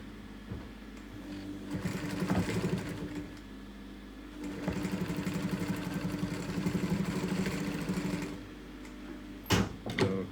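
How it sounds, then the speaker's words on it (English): A sewing machine stitching the fur of a hand puppet runs in two steady, buzzing stretches of close, rapid needle strokes, with brief quiet gaps and a sharp clack near the end. "Spend some time tucking that fur in, and we sew along the bottom there."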